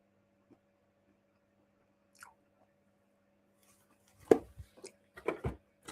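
Crunchy, spicy snacks are bitten and chewed close to the microphone, a few sharp crunches clustered near the end after mostly quiet moments.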